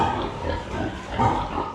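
Several Japanese black Berkshire pigs, boars and sows, grunt and snort close by on a pig farm, overlapping low oinks in an uneven rhythm with no talking.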